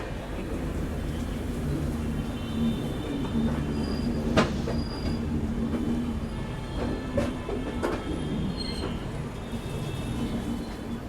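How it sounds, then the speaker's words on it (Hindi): The Surat Malda Town Express rolls along Indian railway tracks, with loud continuous wheel rumble, rhythmic clickety-clack and brief squeals heard from on board. "और हमारी ट्रेन निकल चुकी है अपने ओरिजिन स्टेशन उधना जंक्शन से"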